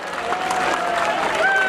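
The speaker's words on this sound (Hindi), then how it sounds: "एक बार जोरदार तालियां मिला के स्वागत करें माननीय मुख्यमंत्री जी का" A rally crowd applauds loudly to welcome the chief minister, a dense and continuous roar of clapping filling the whole moment, with an announcer's amplified voice over it.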